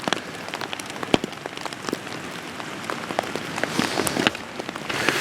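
Steady rain patters on a taut tent nearby, with scattered louder drops standing out against the continuous hiss.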